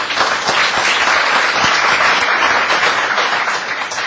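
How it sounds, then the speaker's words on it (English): An evening program audience applauds, a dense, loud wash of many hands clapping steadily throughout, close and continuous with no voices. "Rebecca Ash, you can clap."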